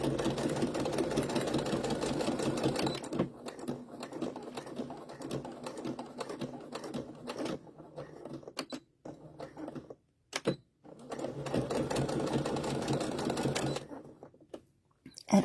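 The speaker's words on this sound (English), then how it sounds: "I'm going to top stitch this whole thing" A sewing machine top stitches a baby bib in two long steady runs at the start and near the end, with quieter handling sounds and short gaps between.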